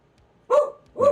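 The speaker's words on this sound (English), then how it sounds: "Why are we barking?" A pet dog indoors barks twice, two short, loud, close barks about half a second apart with quiet between them.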